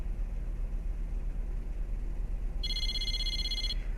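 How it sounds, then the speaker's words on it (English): Low steady hiss, then a bright electronic cell phone ring in the video game Persona 4 Arena chirps for about a second near the end before cutting off. "I realized the beeping wasn't my alarm. It was my cell phone."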